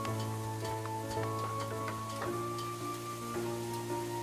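Rain pattering down on a farming settlement in the city-building video game Rise To Ruins, a steady soft hiss dotted with small ticking drops over a constant low game hum, with no voices.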